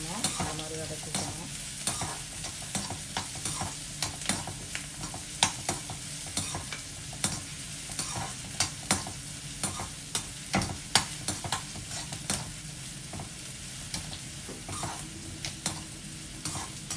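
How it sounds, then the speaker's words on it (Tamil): Onions sautéing in a pan make a continuous sizzle punctuated by frequent clicks and scrapes of a stirring spoon, steady and close throughout with no voices. "வெங்காயம் வதங்கிட்டுருக்கு"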